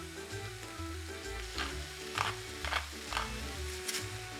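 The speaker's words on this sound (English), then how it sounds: "Now is the moment in which we can put inside the green beans, mushroom, obviously Harper, salt and pepper." Green beans and mushrooms sauté in a pan with salt and pepper, a steady close sizzle under low background music, with a few brighter bursts of stirring scrapes spaced through the clip.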